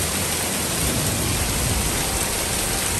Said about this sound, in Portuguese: eu nunca vi uma chuva tão forte na minha vida